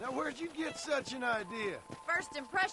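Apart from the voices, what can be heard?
None of the usual background noises is heard.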